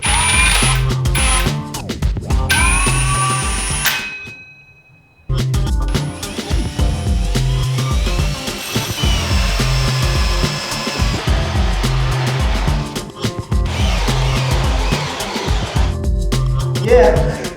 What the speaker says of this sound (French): Trop cool le système de la scie cloche.